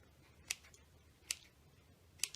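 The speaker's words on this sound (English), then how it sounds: "I just cut lines like this, going in this direction first, and then just at random I just cut in the other direction" Scissors snip slits into a book page, three crisp cuts spaced evenly apart, close by and fairly quiet with no talking.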